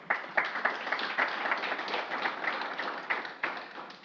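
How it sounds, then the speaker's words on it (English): A conference audience at a developer event claps for sponsors, an uneven round of applause with distinct sharp claps from a modest crowd, fairly close and steady for several seconds. "Round of applause for them again,"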